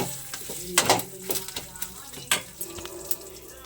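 Curry leaves drop into a hot pan of oil and crackle in bursts of sharp sizzling over a steady frying hiss, with a few clinks of a utensil against the pan.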